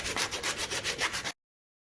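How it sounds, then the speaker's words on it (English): Brisk back-and-forth scrubbing on the surfaces of a 2003 Johnson/Evinrude 90 HP V4 outboard gearcase, about eight quick rhythmic strokes close by. It then stops abruptly. "now got to clean up the surface areas along here"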